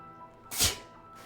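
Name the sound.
sneeze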